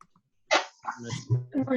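A foster dog taken in from a local shelter barks and yips a few times nearby, the short bursts mixed with a person talking.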